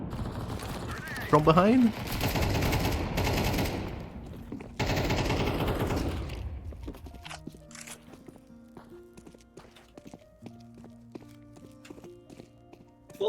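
Gunfire in a shooting video game, loud rapid bursts of shots mixed with game sounds and chatter over the first several seconds, then thinning into scattered quieter effects and tones as people talk.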